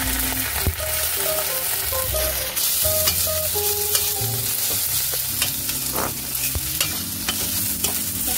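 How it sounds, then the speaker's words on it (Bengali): Garlic paste fries in hot oil, giving a steady, loud sizzle that runs through the whole clip. Occasional scraping sounds come from stirring, and no one speaks. "এবার ওই তেলেই রসুনের পেস্টটা দিয়ে দেবো।"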